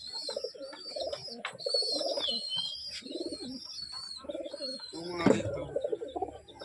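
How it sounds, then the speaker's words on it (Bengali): Giribaz pigeons coo in low repeated throaty bursts, with sharper chirps and flutters over a steady background of bird calls. "প্রথমে শখ করাই গিরাবাজ পায়রা"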